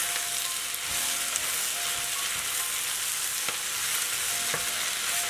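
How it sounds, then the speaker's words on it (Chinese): Cabbage being stir-fried in a wok, a steady close sizzle of frying with repeated scraping and tossing of the spatula, continuous and fairly loud with no talking. "先把包菜翻炒均匀"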